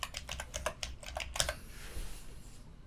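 Rapid typing on a computer keyboard, about a dozen crisp clicks in quick succession up close, then quiet room tone.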